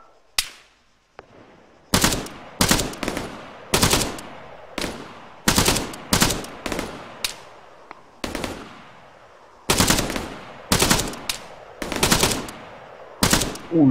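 Gunfire in the ARMA 3 Epoch mod video game: loud sharp bursts of automatic fire in irregular volleys, each crack ringing out with a short echoing tail, separated by brief quiet gaps.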